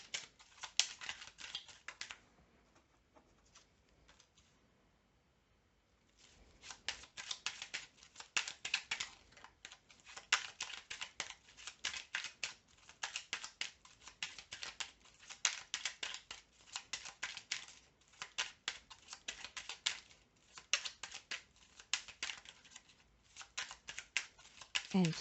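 Tarot cards shuffled and drawn by hand, a continuous close, soft riffling and flicking of card stock with brief pauses, with faint speech at times.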